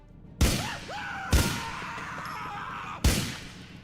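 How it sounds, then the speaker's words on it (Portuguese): Three sharp gunshots ring out in the video game GTA 4, two close together then a third after a pause, with a faint voice-like tone between them. "um tiro em cada perna e uma na cabeça pra finalizar na hora"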